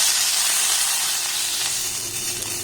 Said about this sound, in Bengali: মাশরুমগুলোকে আমি খুব ভালোভাবে ভেজে নিয়েছি